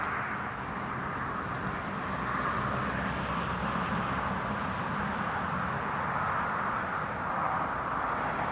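A Luftwaffe Airbus A321neo jet at Newcastle Airport gives a broad, steady roar that holds fairly constant, heard from a distance outdoors with no one talking.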